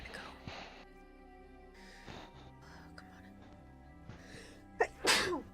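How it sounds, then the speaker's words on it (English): One sharp, loud sneeze bursts out at the end after a short gasping intake, following quiet breathy vocal sounds over soft game music. "I feel like I need to sneeze."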